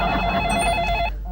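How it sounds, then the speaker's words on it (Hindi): A telephone rings steadily and close as a call is placed, an electronic tone that lasts a little over a second and stops, with no talking. "मैं अभी आनंद को मधुपुर फोन करता हूँ और पूछता हूँ"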